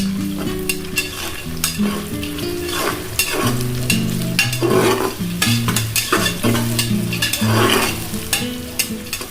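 Peanuts stirred in a sizzling pan for a Maharashtrian matki khichdi, with constant frying crackle, repeated spoon scrapes and clinks, close and loud, while a tonal hum runs underneath.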